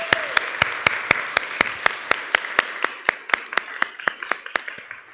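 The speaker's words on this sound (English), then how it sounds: "Let's give everybody a round of applause." A church congregation applauds volunteers of a Project Paintbrush service project during a Sunday service with sharp, evenly spaced claps in a steady rhythm, a faint voice heard briefly at the start.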